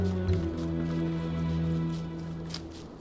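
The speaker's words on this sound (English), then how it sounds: "Oh no, it's raining." In the survival game Don't Starve Together, a soft patter of rain falls as a faint, even hiss, layered under low sustained background music tones, with no talk.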